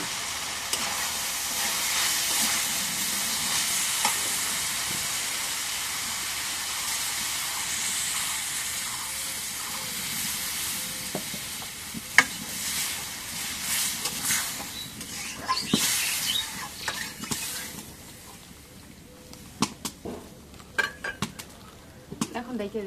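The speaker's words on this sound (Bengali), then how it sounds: "এখন তরকারিটা কষানো হয়ে গেছে, আমি একটু জলের ভাগ দিয়ে দিই।" Curry of bitter gourd in a pan hisses and sizzles steadily after water is poured in, with occasional clinks of a utensil against the pan, loud and close at first, then settling to quieter bubbling.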